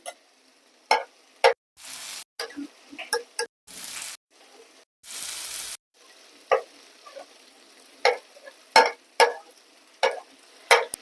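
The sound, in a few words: crab and spice masala being sautéed in a pan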